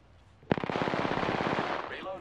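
Enemy gunfire in Apex Legends: a sudden burst of rapid automatic shots starts after a brief quiet and rattles steadily for about a second and a half, loud and close, then trails off.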